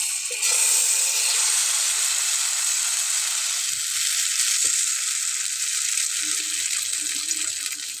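Batter of ground red lentils and raw potato frying in a hot pan for a Bengali breakfast snack, a loud, steady close sizzle that starts abruptly and runs unbroken, with faint clicks of a utensil underneath.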